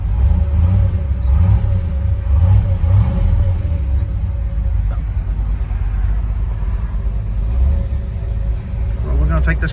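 A 1966 Chevrolet Chevelle SS 396 V8 with 360 hp L34 engine, a deep loud rumble rising and falling as it revs in pulses, heard close and continuous.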